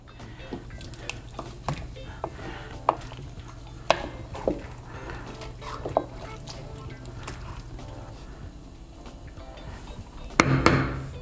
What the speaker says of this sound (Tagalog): Tapos haluin nyo lang, yan.